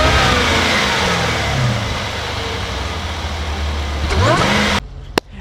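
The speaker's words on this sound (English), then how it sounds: "It boasts a 5-liter supercharged V8 that makes 550 horsepower to all wheels, so you get a crazy launch with no slip." A Jaguar F-Pace SVR with a 5-liter supercharged V8 revs hard and close with a loud, sustained engine roar rising in pitch. The sound cuts off abruptly near the end, followed by a single sharp click.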